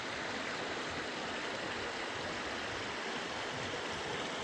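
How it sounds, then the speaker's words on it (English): A canyon stream near a palm grove trickles and burbles in a constant, even wash of moving water, heard alone without any voices. "You can hear the water trickling."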